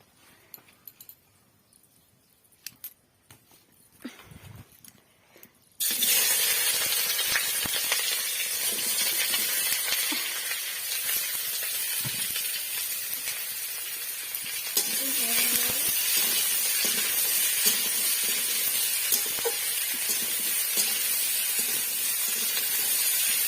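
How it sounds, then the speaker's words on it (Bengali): Whole spices hit hot oil for tempering, and after a few quiet seconds a sudden loud, steady sizzling hiss bursts out and continues close by. "দেখো, এবার ফোড়ন দিয়ে দিলাম।"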